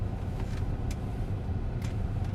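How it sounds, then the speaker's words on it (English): A parked car engine idles with a low, steady rumble, a couple of light clicks over it, and no speech. "Yeah, I'm gonna leave the car running."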